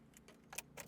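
Light metallic jingling of keys in a few short bursts, close and fairly quiet, with a faint ticking hum underneath.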